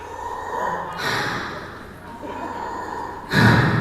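A voice imitates a snoring person on a malfunctioning CPAP machine, with rough snorting inhales and hissing breaths in repeated bursts, the last one loudest.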